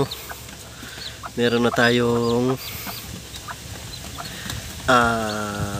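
Newly hatched Raptor Boston chicks and chickens make loud, close, drawn-out calls in two bursts, one near the start and one at the end, with faint peeping and clucking between them.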